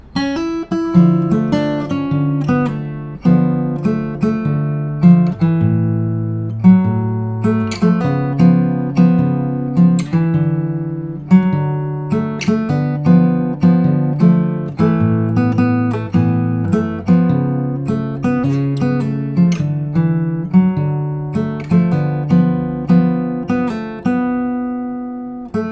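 Fingerpicked acoustic guitar carries the last bars of a pre-chorus into its chorus, a steady run of plucked chords and melody notes played up close, alone.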